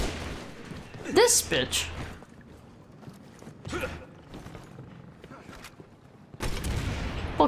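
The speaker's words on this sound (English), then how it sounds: "Who's still shooting shit?" Gunfire in the video game Resident Evil 6 comes in a few sharp bursts and clattering mechanical noises, the loudest near the start and the end, with a person talking and swearing between them.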